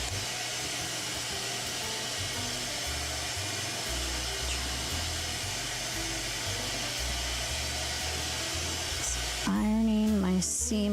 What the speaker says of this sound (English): Ironing my seam allowances down in the back, kind of like spreading them like butterfly wings